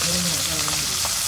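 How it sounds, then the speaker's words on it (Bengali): Chopped onion and green chilli sizzle steadily in hot oil, a close, continuous frying hiss with small pops and a faint stirring scrape. "তেল গরম হচ্ছে, প্রথমে পেঁয়াজ কুচি, কাঁচামরিচ কেটে দিই"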